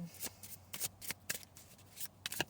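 Quiet, close riffling of a card deck, quick crisp flutters repeating in a loose rhythm.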